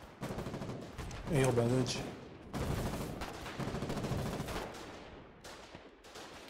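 Rapid bursts of gunfire in the war game Foxhole crackle repeatedly across the scene, some close and sharp, others more distant, while players talk over the shooting.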